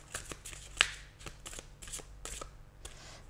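Tarot cards are handled and slid back into the deck, giving a quiet, close series of soft papery flicks and shuffling riffles at irregular intervals.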